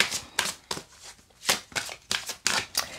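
Tarot cards shuffled by hand before a reading, about eight crisp riffling bursts in a quick uneven rhythm, close and moderately loud, with no talk.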